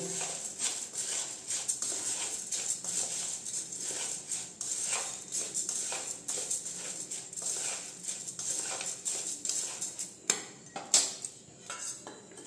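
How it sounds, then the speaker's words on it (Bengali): Jhal muri puffed rice is tossed with mustard oil, making a brisk, continuous, rhythmic scraping and rustling of a utensil against a bowl, steady and close for the whole stretch. "এখন ভালো করে আমি মিক্স করে নেব"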